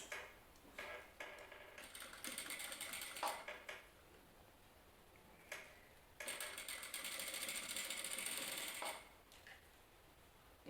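A sewing machine stitches bias binding over a corset boning channel, running in two bursts of rapid mechanical ticking, a short one and a longer sustained one, with handling clicks and rustles in the quiet gaps between.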